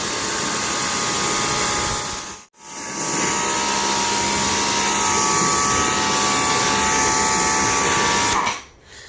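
A car wash air blower roars steadily and loudly with a hissing rush as it blasts dirt off a car, cutting out briefly once before resuming and then stopping near the end.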